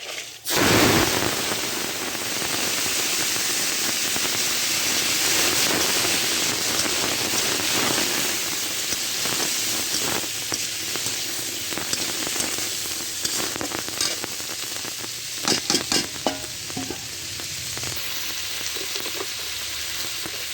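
Small boiled crabs coated in spices sizzle loudly as they hit hot oil seasoned with black cumin, a steady bright frying hiss throughout with a sharp burst at the start and occasional crackles and stirring scrapes near the end.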